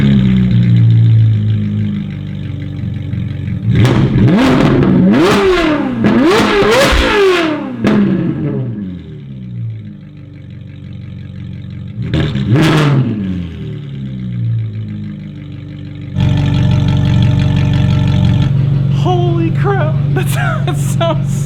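A Ferrari 458 with S-Line straight pipes idles warm, then gives several sharp, very loud revs close by that scream high and drop back. Later comes one more rev, and the car settles into a rough, busy idle.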